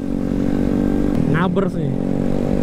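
A Suzuki GSX-S150 motorcycle engine hums steadily while riding, a close, continuous drone, with a brief burst of talk over it midway.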